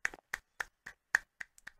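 Hands clapping in a steady rhythm, about seven crisp claps spaced evenly, close and clear with no talk over them.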